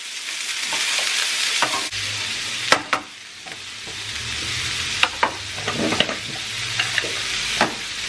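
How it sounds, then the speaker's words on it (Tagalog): Garlic and onion sizzle in olive oil in a pan, a steady close frying hiss broken by repeated scrapes and clacks of a spoon stirring. "Tapos, sutin natin yung garlic, onion, hanggang mag-caramelize."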